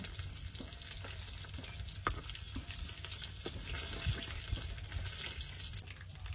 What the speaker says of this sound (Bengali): মাছ সব সুন্দর করে ভেজে নিয়েছি,